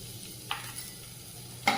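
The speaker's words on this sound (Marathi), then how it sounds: "कढाईमध्ये अर्धा चमचा तेल टाकायचे लसणाच्या कांड्या टाकून घेऊया" Garlic cloves frying in half a spoon of oil in a kadhai, a steady close sizzle with a couple of sharp scrapes of a stirring spoon against the pan.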